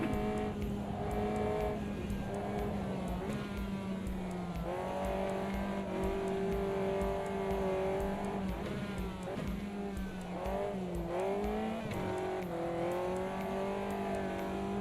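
A race car engine in a racing video game runs and revs steadily while warming up the tyres, its pitch rising and dipping through long sweeps with faint tyre noise, loud and continuous, with no talking.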